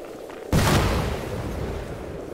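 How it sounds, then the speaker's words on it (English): A grenade explodes in the video game ARMA 3, one sudden loud boom that rolls off into a decaying rumble. "he's fucking lobbed a grenade"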